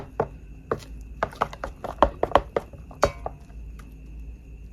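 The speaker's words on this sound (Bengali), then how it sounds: "বড়ার ব্যাটারটা আর একটু ভালো করে ফেটিয়ে নিব।" Ripe mango fritter batter being beaten in a bowl, giving a run of sharp, irregular clinks and taps of a utensil against the bowl, close and fairly loud, with no talking.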